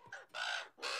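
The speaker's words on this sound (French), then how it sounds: "Thomas Bugnar est en train de nourrir ses bébés corbeaux" Five-week-old baby ravens are hand-fed by a researcher in a corvid lab and give loud, harsh, raspy begging caws in three close bursts with short gaps between them.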